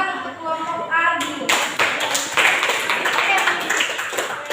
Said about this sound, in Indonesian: silakan tepuk tangan untuk kelompok Ardi.